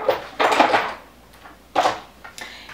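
Items rattle and clatter in a beauty drawer as it is opened and rummaged through, with two bursts of knocking and shuffling separated by quieter moments, close by.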